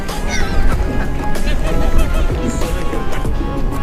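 Geese and ducks honk and squabble loudly and continuously while being fed bread, a busy flock crowded close together with overlapping calls and some human talk mixed in.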